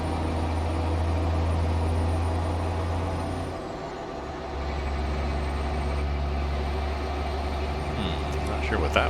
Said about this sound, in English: there was a jet went overhead